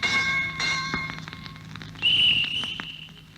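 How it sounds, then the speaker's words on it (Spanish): A train station bell in Entre Ríos rings with several bright metallic strikes whose tones linger and overlap, followed by a sustained high ringing tone that fades out. "La repicante y nerviosa campana de la estación entrerriana llamando a reanudar el viaje"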